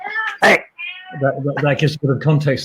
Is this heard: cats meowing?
yes